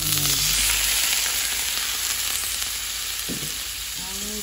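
Vegetables stir-fry in a pan for pancit miki guisado with squid balls and kikiam, giving a loud, continuous sizzle with brief scraping stirs and a faint voice near the start and end.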